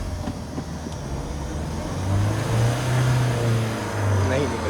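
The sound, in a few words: Mahindra Thar engine reversing, stuck in slippery mud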